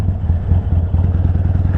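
A Harley-Davidson Sportster 48 motorcycle in Hot Rod Red sits idling nearby, its engine giving a steady, loud, lumpy rumble with a regular pulsing beat and no voices.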